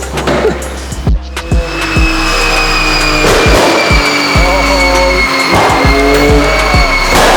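A loud, close drift car engine revving hard through a custom exhaust on first start, sharp throttle blips and crackles rising and falling over a rough idle.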